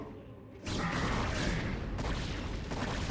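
In a StarCraft game, a destroyed cannon explodes with a sudden loud, broad roaring burst that keeps rumbling as a dense wash of blast noise for several seconds.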